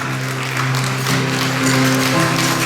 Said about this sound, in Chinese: 再次给他热烈的掌声